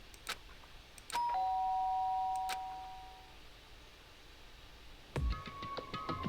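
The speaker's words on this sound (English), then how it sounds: "did I hear the doorbell?" A video game doorbell in Danganronpa: Trigger Happy Havoc rings as a clear two-tone electronic chime that rings out and fades, followed a couple of seconds later by another brighter ding over a quiet background.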